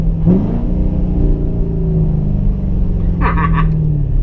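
A vehicle engine revs up and holds a rising, buzzy tone as it shifts from second down to first gear at about 25 miles an hour, loud and close, with a brief voice near the end.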